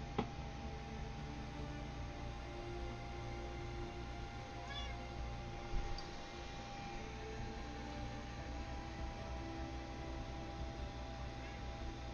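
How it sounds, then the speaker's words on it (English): Several short meows from a pet cat rise faintly over a steady hum of room noise, with a few scattered thumps nearby. "My cat is a needy cat."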